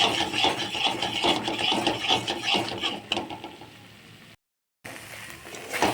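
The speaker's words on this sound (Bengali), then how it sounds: "এর মধ্যে এখন আমি একটু চিনি দিয়ে দেবো। আবারও ভালো করে কষাবো।" Thick spiced masala with a little sugar added, stirred and scraped hard in a pan while it fries for a Bengali katla fish curry, making a steady rasping, scraping rhythm close up, with a brief gap near the end.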